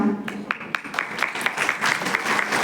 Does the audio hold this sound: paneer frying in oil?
no